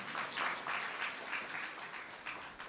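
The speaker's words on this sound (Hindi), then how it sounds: "तालियां तो बजाओ भाई" Steady applause from a seated audience at a Brahma Kumaris spiritual gathering, fairly faint and slightly distant, with rippling clapping and no talk over it.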